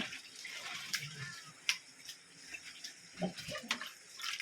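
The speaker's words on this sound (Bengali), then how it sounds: "এটা কি জল ছাড়া হচ্ছে, এটা জল ছাড়া" Water draining and splashing at a koi fish farm where fish are being sorted by size, faint and irregular, with small drips and trickles over a quiet background.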